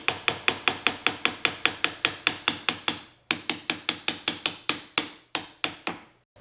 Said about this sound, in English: I'm looking for my alignment tool, my hammer.